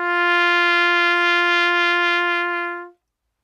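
A trumpet holds one steady, full note with a rich, clear tone, loud and unaccompanied for nearly three seconds before fading out into silence.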